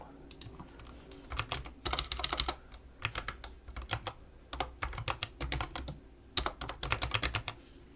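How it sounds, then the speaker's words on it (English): Bursts of quick keystrokes clatter on a computer keyboard, close and clear, in short irregular runs separated by brief pauses, with no voices. "typing in all of these 3 labels, we just click add."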